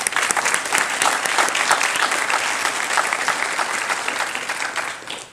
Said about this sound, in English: give you a round of applause